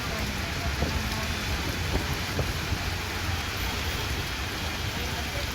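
Heavy rain falls in Hyderabad as a dense, continuous wash of hiss with scattered drop impacts, steady and fairly loud throughout.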